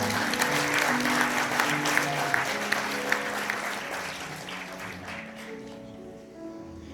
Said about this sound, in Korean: 내빈께서는 박수로 이 둘을 축복해 주시기 바랍니다